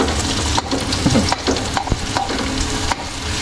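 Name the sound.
garlic and onion frying until golden brown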